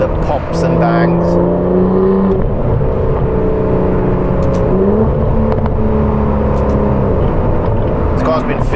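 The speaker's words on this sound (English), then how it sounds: "The pops and bangs." Aston Martin DBS Superleggera V12 in sport mode, loud sustained engine note shifting pitch through gears with sharp exhaust pops and bangs near the start and end, while someone talks over it.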